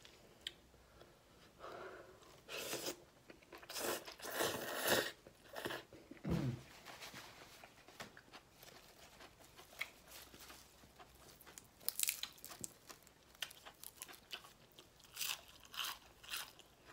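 Close, quiet crunching and chewing come in irregular bursts as spicy pounded cucumber salad with rice noodles and mushrooms is eaten by hand, with soft mouth sounds and small scrapes between bites.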